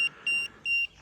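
Electronic ghost-hunting detector touched against a phone, giving three short, high, steady beeps in a quick regular rhythm, loud and close with little else around.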